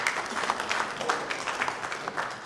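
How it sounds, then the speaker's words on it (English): A short burst of applause for Engineer Magnus Kwashi at a Ghana Institute of Engineering event: moderate, somewhat distant clapping from an audience, steady and brief, with a faint crowd murmur underneath. "Please let's give him another round of applause."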